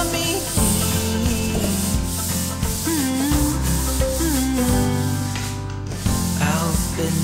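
Drywall joint compound being sanded smooth with 220-grit sandpaper during a garage-to-living-area conversion, a steady close rubbing hiss lasting throughout, with music-like tones playing underneath.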